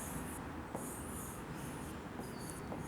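Chalk or marker scratches steadily across a classroom board while a chemistry heading is written, a faint, continuous dry scraping with a few soft taps and no talk.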